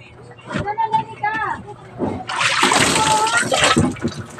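Water splashes and runs steadily for the second half, loud and close, after a stretch of talking voices; speech continues over the splashing.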